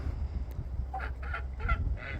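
A farmyard turkey calls out in several short, rough bursts, a handful of throaty gobbling or honking notes spaced unevenly over a steady low rumble of background noise, fairly close and alone without talk.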